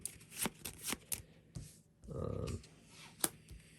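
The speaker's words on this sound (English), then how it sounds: "then I'll shuffle the loot deck back up" A board game loot deck of cards is shuffled up close: sharp riffling bursts and taps, then a longer buzzing riffle, followed by a final snap of the deck.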